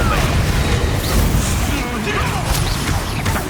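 An Incendio fire spell blast in Hogwarts Legacy roars as a dense, loud whooshing burst that fills the short clip without a break, mixed with crackling impacts and a voice shouting in the middle of the combat.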